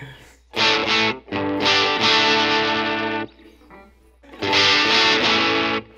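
Heavily distorted electric guitar chords ring out loud and thick, sustained with a short gap between phrases before another crunchy chord.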